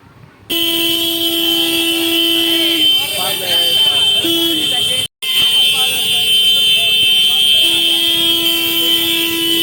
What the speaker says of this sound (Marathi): गाड्यांच्या हॉर्न वाजवतात